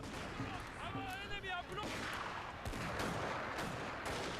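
Troops firing volleys of gunfire in the strategy video game Total War: Shogun 2, Fall of the Samurai: dense, continuous crackling shots with sharp bursts throughout, under a brief spoken line and background game sounds.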